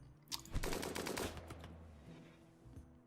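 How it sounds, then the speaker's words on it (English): Faint rapid bursts of gunfire in the Rimworld colony game, a quick cluster of shots early on followed by a few scattered pops, quiet and with no talk over it. "Come on, Trigger. Fire."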